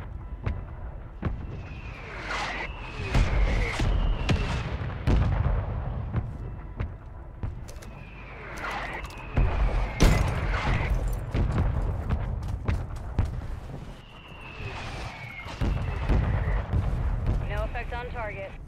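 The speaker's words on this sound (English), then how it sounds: "Mortar strike inbound now." Repeated booming mortar strike explosions in Call of Duty Warzone 3, heavy thuds landing in quick succession with descending whistles and rumbling debris, loud and sustained, with voices talking over the blasts.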